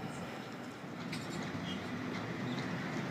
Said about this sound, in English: It's got a passing train A46, so Waratah 46